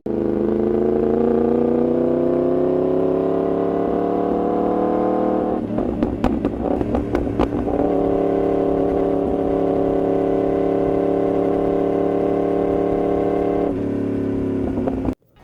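A four-cylinder motorcycle engine with uneven firing intervals, sounding much like a V8, idles with a deep, steady burble, then blips its throttle in a rapid series of sharp revs before settling back to a loud, even idle.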